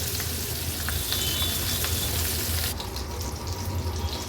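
Boi fish frying in oil in a pan over a medium flame, a steady dense sizzle with faint crackles throughout, softening slightly toward the end.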